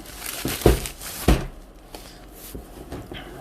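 A parcel of books is unwrapped, with close crinkling and crumpling of packaging and a few sharper tearing rustles early on, fading to softer handling noises.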